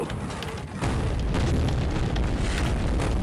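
Grenade explosion in Shadow Warrior, a deep booming blast that rises abruptly and lingers as a dense, roaring rumble for several seconds.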